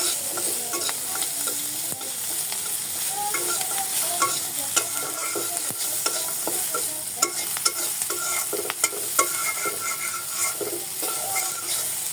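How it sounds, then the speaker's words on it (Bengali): Mixed vegetables being stirred while they fry in a pan: a constant sizzle with repeated scraping and clicking strokes of a spatula, close and loud, and no voices. "আমি সবজিগুলো এর ভিতরে ঢেলে দিয়ে একটু নাড়াচাড়া করে দিয়ে ঢেকে দেবো"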